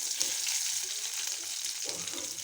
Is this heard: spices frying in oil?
yes